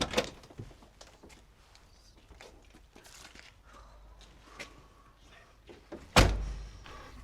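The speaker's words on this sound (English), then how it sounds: "Open the gates. Open the door." A prison gate door is opened in a jail corridor: quiet shuffling and footsteps, then a single loud, heavy metallic slam-like clank near the end that rings briefly.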